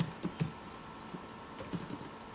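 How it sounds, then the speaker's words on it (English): A few soft keystrokes tap on a computer keyboard in a quiet room, appearing as sparse, irregular clicks, faint and close, with no talk. "I can actually type into this"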